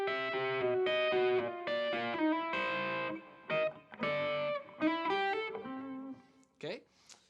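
Electric guitar with distortion and chorus effects playing a blues turnaround in C, a loud descending run of single notes and chords ending in a brief slide, close and alone.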